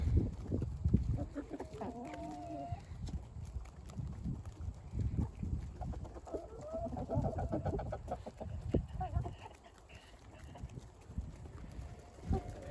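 Free-ranging chickens and roosters, including three white roosters, cluck and call repeatedly at close range, with irregular bursts of clucking and a few louder squawks over a busy farmyard background.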